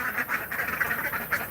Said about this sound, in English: Ducks are always laughing.